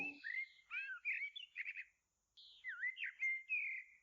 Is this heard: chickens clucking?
no